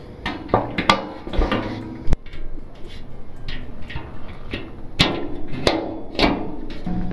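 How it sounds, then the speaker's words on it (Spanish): A screw is tightened while assembling a Blackstone griddle, giving scattered sharp metallic clicks and knocks up close, irregularly spaced with quieter rattling between them. "Apretamos el tornillo."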